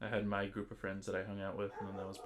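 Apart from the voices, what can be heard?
None of the usual background noises is heard.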